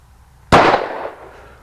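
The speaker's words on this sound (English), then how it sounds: "One round on the LC9, first shot out of the box." A single Ruger LC9 pistol shot fired at an outdoor range, one sharp loud crack with a short ringing decay and no talk over it.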